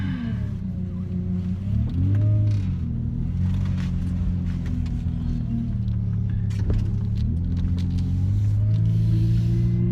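Car pulling away from a gas station on a rainy evening, engine rumbling low and steady, rising in pitch as it accelerates, with road and rain noise layered on top throughout.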